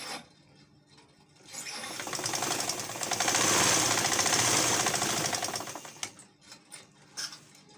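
A sewing machine stitches fabric for a cap in one sustained burst, a rapid mechanical rattle that builds, holds for a few seconds and stops, with quiet handling sounds before and after.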